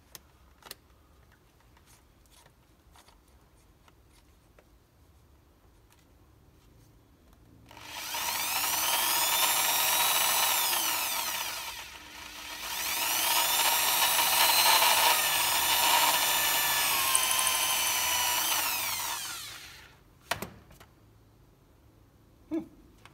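A sharp 8.2mm drill bit cuts through a part during a Porsche sports exhaust overhaul, two sustained loud bursts of whining, grinding drilling separated by a brief pause, with quiet handling clicks before and after.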